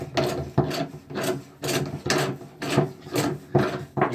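Pliers crank down on a plumbing fitting packed with putty, giving a series of about nine close, rasping scrapes and squeaks in a steady rhythm, with no talking.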